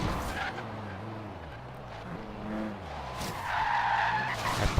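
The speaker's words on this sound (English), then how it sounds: "And there we go, drifting that corner Corvette style." Corvette tires skid and squeal through a drifted corner in the racing game Forza Horizon 3, a steady engine roar underneath with the tire screech swelling louder toward the end.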